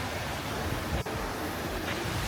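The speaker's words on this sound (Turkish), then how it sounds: "Güzel bir şelaleyi görüyorsunuz akıyor." Steady, full-bodied rush of a waterfall in Tbilisi, Georgia, a continuous broadband wash of flowing water with no pauses, heard close and fairly loud.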